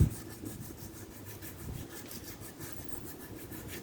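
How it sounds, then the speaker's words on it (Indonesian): Sandpaper rubs steadily across a scooter CVT clutch lining in quick repeated strokes, a soft, gritty scratching heard up close. "Sekarang kampas gandanya ya diamplas, menghilangkan kotoran yang nempel"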